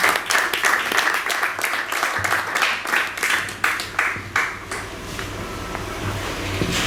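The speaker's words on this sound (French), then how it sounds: "Sous vos applaudissements, s'il vous plaît." An audience bursts into applause at a magazine's first-anniversary launch event, brisk dense clapping that builds and then gradually thins and fades toward the end.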